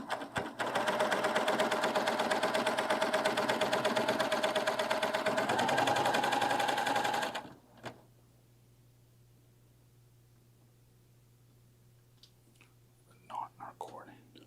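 A Baby Lock serger runs a stitch in a loud, steady whir for about seven seconds, then stops, leaving near silence with a few faint clicks and handling noises.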